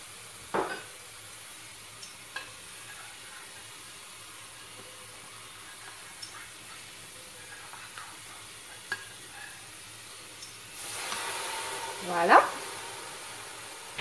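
Chicken pieces for Moroccan couscous fry in a little water with spices, a soft hiss that swells and sizzles strongly near the end after quiet stirring and clinks.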